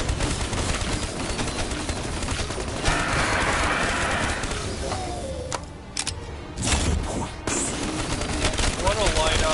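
Rapid gunfire blasts away at hulking armored Panzer enemies in a zombies video game, dense bursts of shots layered with game effects and bird-like chirps, while someone talks over the action.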